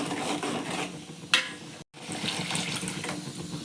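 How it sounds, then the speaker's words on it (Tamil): Water is poured into a simmering bitter gourd tamarind curry (pavakkai puli kuzhambu) on the stove, a steady close splashing pour with a brief clink partway through and no talking. "தேவையான அளவு உப்பு உப்பு போட்டு நல்லா வந்து கொஞ்சம் கொஞ்சம் தண்ணி ஊற்றி நல்லா வேக வைப்போம்"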